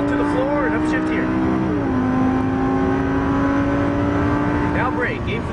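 A Lamborghini Gallardo LP570-4 Superleggera pulls hard at full throttle, its engine note rising and then dropping at one upshift before holding a loud, steady drone while people talk over it.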